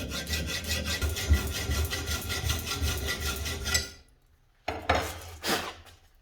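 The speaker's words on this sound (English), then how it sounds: "So I'm just going to file a small flat edge on." Hand file rasping a small flat edge onto a drilled part for a cheese cutting board with wire cutter, quick rhythmic scraping strokes close by for about four seconds, followed by a couple of brief handling knocks.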